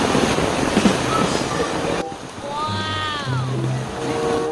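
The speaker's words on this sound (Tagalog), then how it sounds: "Ang lakas ng ilog." A strong river current rushes loudly and steadily at a washing spot, with heavy wind buffeting across the microphone and brief tonal voices or whistles in the second half.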